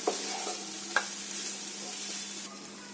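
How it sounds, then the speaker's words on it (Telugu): Boiled basmati rice being stir-fried for chicken fried rice, giving a steady close sizzle under soft scraping and stirring with a couple of sharper spatula knocks against the pan; no one speaks. "ఈ రైస్ని యాడ్ చేస్తున్నాము. ఒకసారి మిక్స్ చేసేసుకుందాం."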